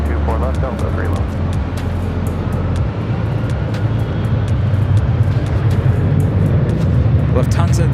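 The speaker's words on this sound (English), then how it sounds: "Lufthansa, the A340." A Lufthansa Airbus A340 airliner at LAX gives a heavy, continuous low engine rumble, loud and near, while a voice talks over it.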